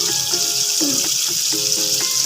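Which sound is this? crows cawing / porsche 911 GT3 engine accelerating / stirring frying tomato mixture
stirring frying tomato mixture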